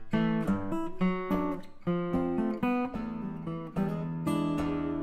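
Acoustic fingerstyle guitar plays a Mississippi Blues turnaround, bass notes and plucked chords moving in a steady rhythmic pattern, close, clear and fairly quiet, with no voices.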